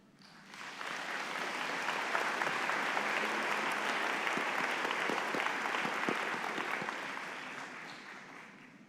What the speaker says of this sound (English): Please join me in a round of applause for all of our faculty who have challenged and supported you